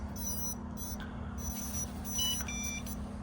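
Faint, short electronic beeps from a BetaFPV LiteRadio 4 radio controller confirming binding sound a few times over a steady low electrical hum.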